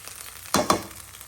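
Cooked rice crackles briefly in a hot pan, two quick stirring scrapes stirring up a short burst of sizzling over a low hiss.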